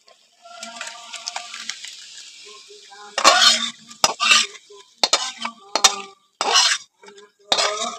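Lemon pickle being stirred and scraped out of a wok (kadai), with a series of sharp metallic clinks and scrapes after a quieter stretch of low background hum.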